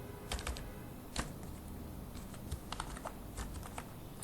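Someone types on a computer keyboard while writing code, producing irregular close clicks and key taps in short bursts, with one louder clack and quiet gaps between.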